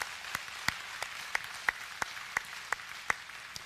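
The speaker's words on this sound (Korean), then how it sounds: "우리 박수로 격려하겠습니다." A church congregation gives a round of applause during a Sunday morning service, a sparse, quiet patter of claps with a few sharper individual claps standing out at a roughly steady pace.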